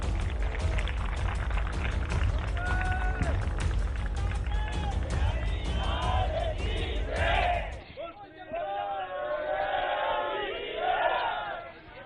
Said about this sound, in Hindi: तालियों के बाद जयकारे लगने शुरू हो गए हैं